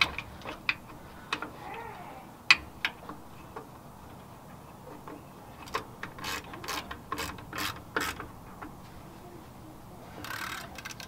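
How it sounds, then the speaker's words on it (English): Socket ratchet snugging down the bolts on a brake wheel cylinder: a run of sharp, close clicks in short bursts, with a couple of louder knocks and a brief rasp near the end. "take your socket and you're going to tighten down those"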